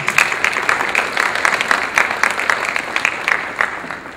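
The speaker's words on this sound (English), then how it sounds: "Give yourself a round of applause." Audience applause at a motivational talk, a steady patter of many hands clapping throughout, fairly close and moderately loud, with no talking over it.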